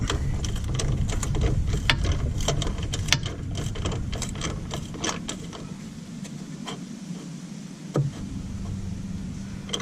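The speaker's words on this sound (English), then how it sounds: "it is a 10mm socket that tightens this up" A 10mm socket ratchet tightens a hose clamp while the fuel filter is replaced on a 1990 Mazda Miata, making rapid, close mechanical clicking in uneven bursts over a steady background hum.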